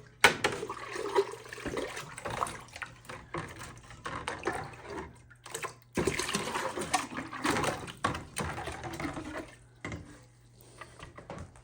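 A piece of heavily tarnished copper is rinsed in a bucket of water, with repeated sloshing, splashing and dripping in uneven bursts separated by brief quiet gaps.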